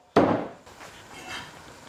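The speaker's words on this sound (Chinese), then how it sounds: "打整干净过后，给它宰成大小均匀的块。" A cleaver chops a cleaned bullfrog into evenly sized chunks: one loud, close, sharp blow on a cutting board, then a fainter lingering clatter.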